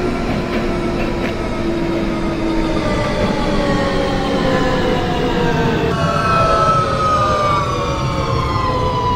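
An R160 subway train on the F local line in the OpenBVE train simulator hums loudly and continuously, its motor whine sliding steadily in pitch as it runs along the track, with no talking.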